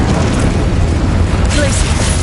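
The Incendio fire spell bursts out in the Hogwarts Legacy video game, a loud, dense rumbling whoosh of flame with a brighter crackle toward the end, heard alongside a voice.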